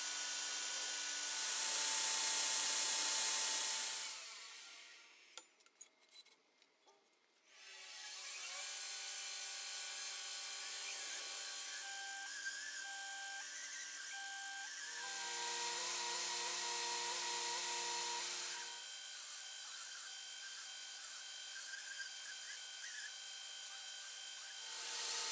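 Metal corners being ground on a belt grinder, in several sustained bursts of broadband abrasive whine separated by short pauses, with a clattering rattle in between, loud and close.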